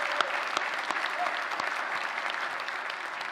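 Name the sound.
graduates applauding at convocation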